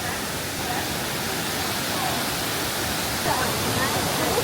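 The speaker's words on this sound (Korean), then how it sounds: "폭포 소리는" Waterfall at Jiuzhaigou in Sichuan, a steady broadband rush of falling water that stays even and loud from start to finish, with no distinct breaks in the roar.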